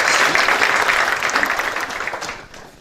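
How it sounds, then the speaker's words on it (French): A seminar audience on sports entrepreneurship applauds loudly for students, a dense wash of clapping that gradually tapers off. "je demande d'applaudir."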